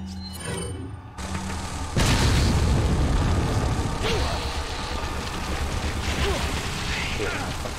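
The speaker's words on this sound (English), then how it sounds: "since I'm here. Grenade." A grenade blast in Resident Evil 4, with a loud booming detonation that then rolls into a long, dense rumble lasting several seconds. A mechanical click and brief action come just before it.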